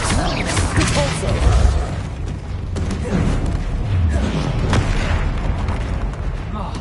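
Booming magical spell blasts from Hogwarts Legacy combat with a troll, a string of heavy thuds and whooshing impacts over a dense, continuous background of game sounds.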